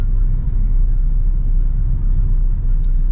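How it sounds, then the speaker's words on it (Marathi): Slow single-lane road traffic of cars moving at twenty to thirty, past roadwork, rendered as a steady low rumble from inside a moving vehicle, loud and even throughout. "ट्रॅफिक एकदम स्लो चालू आहे वीस तीसच्या स्पीडने गाड्या पुढे चालतात"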